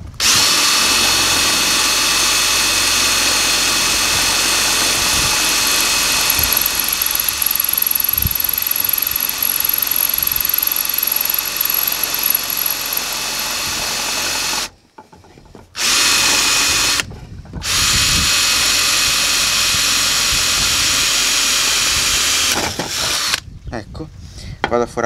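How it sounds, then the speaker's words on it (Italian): A power drill boring holes into wooden supports that hold up a board in a garden, loud continuous whirring with brief pauses and restarts near the end, heard close up. "Adesso sto forando queste cose qui che mi servivano per tenere la tavola in piedi"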